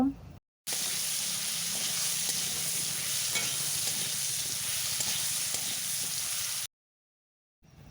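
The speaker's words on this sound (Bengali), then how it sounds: "লবণ আর হলুদ গুঁড়ো দেওয়ার পর ভালোভাবে নাড়াচাড়া করে ভেজে নেব।" Potatoes seasoned with salt and turmeric fry and get stirred in a hot pan, a continuous broad sizzle under light scraping that cuts off abruptly at both ends.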